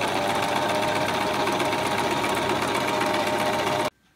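A sewing machine runs steadily at speed stitching a fancy stitch with a clear open toe foot between scallop borders, a loud continuous mechanical whir that stops abruptly near the end.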